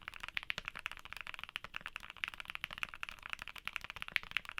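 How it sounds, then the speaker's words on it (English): Typing on Gateron Oil King linear keyboard switches gives a steady, dense run of muted, thocky keystrokes, close and fairly quiet, with no talking. "here's how the Oil Kings sound"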